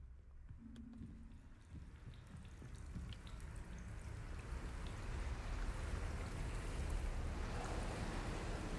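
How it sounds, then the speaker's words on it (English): Water and waves in a first-person sci-fi horror video game, a steady washing surge that grows louder and fuller over several seconds, with a few faint drips and no talking. "Oh, the water."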